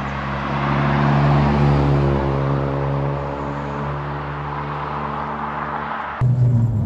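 Honda Civic Type R FD2, a rare JDM import, heard from inside on the road: a steady engine drone holding an even pitch, briefly rising, then a shift in tone near the end.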